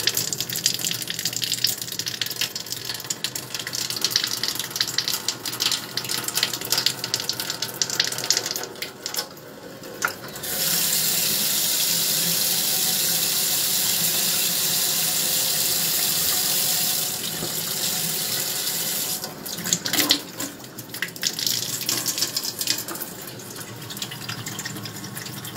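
Water gushes from an ecoagua purifier after a filter change, flushing out carbon residue in a loud, steady hiss that cuts off briefly, then resumes with sputtering bursts.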